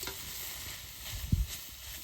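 Grated sweet pumpkin stirred in hot ghee in a pan for pumpkin laddu, a faint steady sizzle with one brief louder scrape of the stirring spoon partway through.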